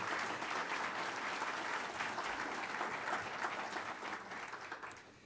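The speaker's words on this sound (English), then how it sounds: "Please give them a round of applause." An audience at an awards celebration gives a sustained round of applause, dense even clapping that fills the room and tapers slightly at the end.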